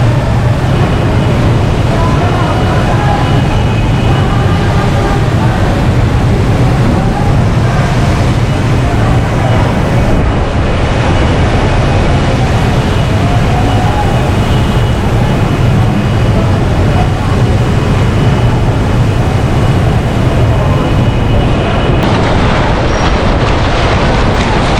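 Heavy stormy rain in Karachi, a loud unbroken roar of downpour and wind noise filling the whole stretch without pause, dense and close.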